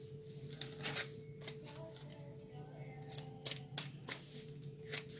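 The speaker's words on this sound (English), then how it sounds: "I started shuffling, and these cards immediately popped out." Tarot cards are shuffled in soft, irregular riffles and flicks against a faint steady hum, quiet and close, with no speech.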